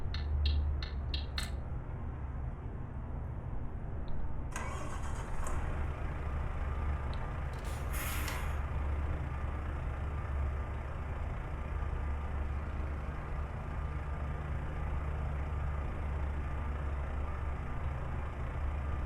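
Volvo truck in Euro Truck Simulator 2 on a snowy winter road: a low, steady engine drone runs throughout, with a couple of brief clicks and a short hissing burst near the start, no voices.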